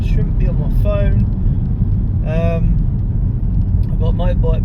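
Steady low road and engine rumble from inside a moving car in Saturday traffic, a motorbike behind, with a person talking over the drone throughout.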